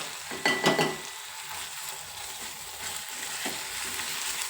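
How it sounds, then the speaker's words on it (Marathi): Spices sautéing with onion and tomato in a pan for brinjal bharit, a steady soft sizzle with a louder burst of stirring near the start, close and alone without talk. "छान असे मसाले पण परतवून घ्यायचे आपल्याला"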